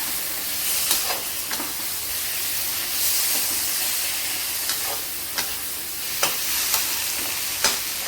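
A spinach vegetable dish sizzles and fries in a pan while it is mixed, with a constant hiss broken by regular scraping and tapping strokes of the spoon.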